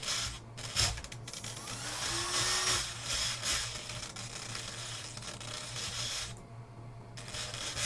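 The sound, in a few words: fan running near RC servo test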